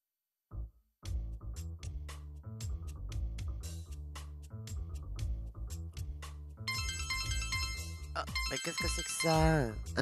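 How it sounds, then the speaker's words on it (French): A telephone ringtone rings repeatedly in a quiet indoor scene within a French audio drama, steady electronic tones with faint talk and other sounds around it. "Un téléphone ?"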